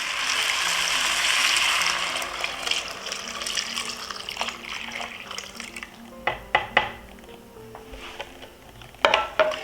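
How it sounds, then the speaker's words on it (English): Coconut milk pouring into a pot and being stirred with a metal utensil, starting as a loud liquid rush that gives way to scattered clinks and scrapes of the spoon against the pot. "Now we'll add the coconut milk."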